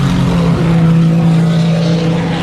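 A race car engine drones steadily and loudly at close range, holding a constant, buzzing pitch without pauses or talking.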